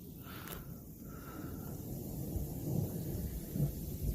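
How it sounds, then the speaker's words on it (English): Wind picking up outdoors before a summer storm, a steady low rumbling roar that swells slightly toward the end, with a faint brief higher sound near the start and no one speaking. "wind is picking up a little bit, as y'all can hear"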